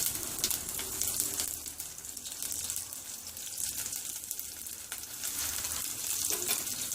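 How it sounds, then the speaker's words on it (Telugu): Dried red chillies, crushed garlic and curry leaves sizzling in hot oil after mustard seeds have popped, a steady soft crackle of frying with occasional stirring, fairly quiet and close. "ఆవాలంతా చిటుపట అయినాక ఎండుమిర్చి, వెల్లుల్లి దంచి పెట్టుకున్న కరివేపాకు వేసుకుందాము."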